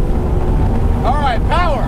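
Wind rushes past a speeding 2012 Checkmate 24 motorboat with a 300 HP engine, heard as loud, constant buffeting with the engine drone underneath, and a voice briefly rises over it near the end.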